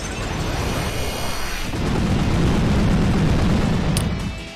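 Explosion move in the Pokémon Photonic Sun video game: a loud, sustained burst of noisy rumble that swells midway and fades out, with no talk over it.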